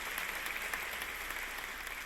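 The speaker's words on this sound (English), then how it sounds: "let's applaud for that" Brief burst of audience applause at a faculty convocation, even and moderately loud, lasting only a couple of seconds.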